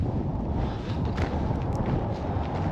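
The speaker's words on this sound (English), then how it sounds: "Ooh, pretty breezy up here." Wind blowing across a mountain pass, a loud, steady low rumble of gusts buffeting the microphone with no break.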